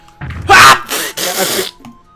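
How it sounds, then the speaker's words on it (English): One loud, close human sneeze: a sharp burst followed by a drawn-out, groaning exhale, then quiet. "you're silent because you needed to sneeze"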